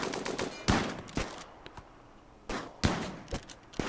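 Gunfire in the colony-sim game Rimworld, including shotgun and light machine gun shots, comes as sharp separate cracks and short bursts in two clusters with quieter gaps between them.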